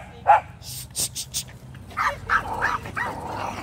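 A dog on a morning walk, meeting other dogs, lets out one sharp bark, then a run of quicker yapping barks a couple of seconds later, close by over faint background noise.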